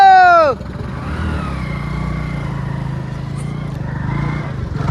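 A new motorcycle's engine hums steadily at low revs as it rides off, beginning right after a short burst of loud music, and stays fairly close and even throughout.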